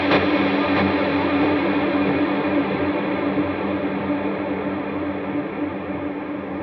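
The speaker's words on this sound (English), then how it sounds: "pretty high decay for both delay and reverb" An electric guitar played through a pedal rig with a high mix and long decay on both delay and reverb produces a dense, sustained wash that slowly thins out over several seconds.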